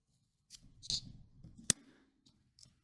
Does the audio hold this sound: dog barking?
no